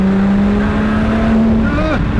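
A Lotus Exige V6 S engine drone heard from inside the cabin, loud and steady, rising in pitch as the car accelerates, then shifting and dropping near the end.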